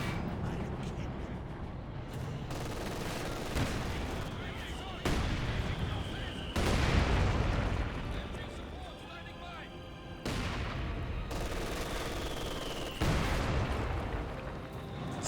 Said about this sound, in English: Mortars shelling the MG quite a bit.